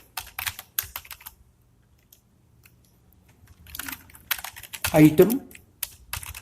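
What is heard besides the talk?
computer keyboard typing code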